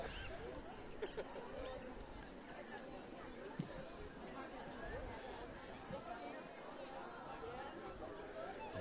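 Crowd chatter at a Dublin junior club sports event, a steady, fairly faint babble of many voices with occasional thumps and shouts.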